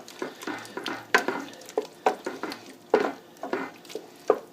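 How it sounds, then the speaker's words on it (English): A spoon stirs browned meat into thick lasagna sauce in a pot, a series of close, wet scraping and sloshing strokes with soft sizzling between them and no voices. "we will introduce back to the sauce the meat that we browned off. We'll stir that in."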